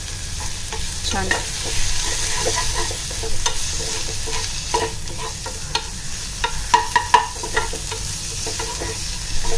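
Chopped onion and coriander sizzle in a pan for green tomato chutney while a spoon stirs them, giving a steady frying hiss with scraping clicks from the stirring and no voices.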